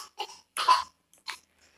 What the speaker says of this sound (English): For all this fake coughing they're doing.